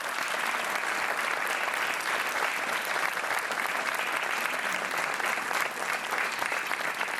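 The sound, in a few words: studio audience applause on a TV quiz show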